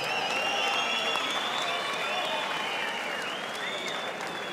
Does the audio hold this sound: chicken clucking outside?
no